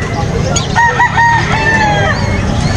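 A rooster crows loudly and close at a pet market in Angeles City, one drawn-out call with a few clucks around it over a busy background.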